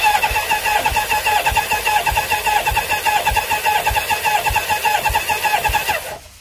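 A Kawasaki GPZ900R barn-find motorcycle cranks on its starter during a compression test, a loud rhythmic chugging of evenly spaced compression pulses that carries on for about six seconds and then stops abruptly.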